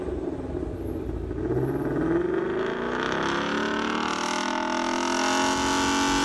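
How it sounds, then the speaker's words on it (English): A processed car engine drones and climbs in pitch, its harmonics gliding upward as it revs steadily and smoothly, loud and alone throughout. "So I ripped this car engine off of YouTube. I put some processing on it,"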